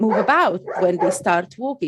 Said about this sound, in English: that's my dog barking, if you can hear them.